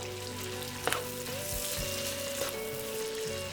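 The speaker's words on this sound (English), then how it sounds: "Here I'm not going to place a lid because I want these veggies to get fried a little." Vegetables fry uncovered in a pan for a chicken vegetable curry, giving a dense, continuous sizzle with a brief clatter near the start and a faint steady tone running underneath, close up and without talk.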